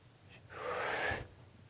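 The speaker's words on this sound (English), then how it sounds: "Only when she needs to, she'll take a breath in." A woman takes one sharp, rushing breath in during circular breathing, a loud airy gasp lasting under a second after a faint short intake, with silence around it.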